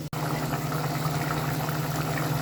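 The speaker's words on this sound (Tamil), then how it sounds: "இப்போ கொஞ்சமாக தண்ணி ஒரு டம்ளர் மட்டும் தண்ணி விட்டுக்கிறேன்." A tumbler of water poured into a pan of beans, carrots and vegetables sautéed in oil for homemade veg noodles, a steady close gushing and sizzling wash with a low hum underneath.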